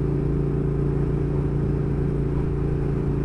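Triumph Thruxton R motorcycle exhaust note, a steady low, rumbling idle burble holding constant and close for a few seconds with no voices.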